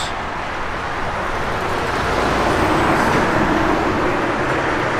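A 1970 Ford Mustang Mach 1's 351 Cleveland V8 produces a loud, steady engine rumble that fills the whole stretch, a deep continuous roar that swells slightly partway through, with no speech.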